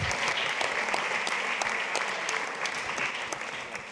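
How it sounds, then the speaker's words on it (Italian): Audience applause during an Italian stand-up comedy show, a steady, dense clapping from a sizeable crowd that holds for the full stretch and slowly tapers toward the end. "Applauso per Edoardo."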